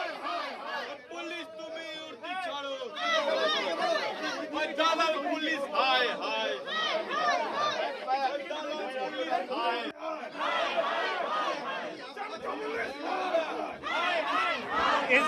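A protest crowd at a sit-in by BJP MLA Shankar Ghosh raises loud, continuous chanting and shouting, many voices overlapping in waves close by with no pause throughout.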